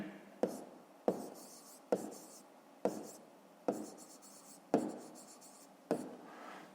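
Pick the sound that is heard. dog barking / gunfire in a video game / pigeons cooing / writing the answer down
writing the answer down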